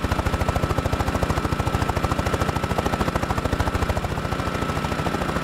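A helicopter engine in the video game DayZ runs with a rapid, even chopping pulse much like a lawnmower. It is loud, close and steady throughout, with no voices over it.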